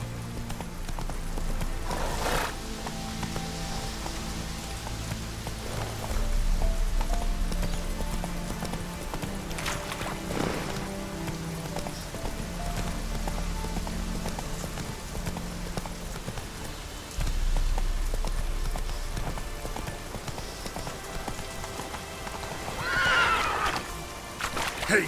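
Roach the horse in The Witcher 3 gallops with rhythmic clip-clop hoofbeats, and loud whinnies break through a few times over steady in-game ambience.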